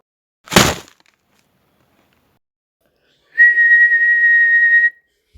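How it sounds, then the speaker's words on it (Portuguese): A window bangs shut with one sharp, loud slam, followed after a pause of silence by a person whistling a single steady, sustained tone for about a second and a half. "o primeiro som, a batida de uma janela, foi mais curto, enquanto que o assobio humano foi mais longo na sua duração"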